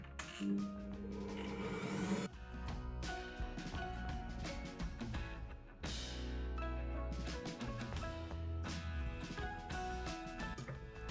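A kitchen machine kneads shortcrust dough from starch, sugar and flour, its motor droning steadily and loud with clattering, rattling mechanical noise throughout, briefly dipping in pitch and load midway before continuing.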